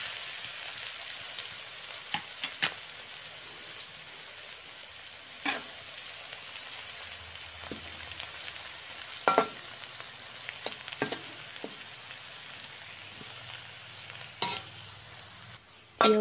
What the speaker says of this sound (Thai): เจียวกระเทียมให้เหลืองหอมก่อนนะเจ้า